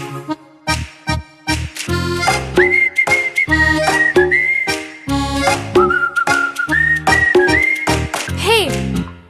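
A person whistles a loud, close melody in bright sustained phrases broken by short gaps, ending on a rising and falling slide, with brief talking between phrases.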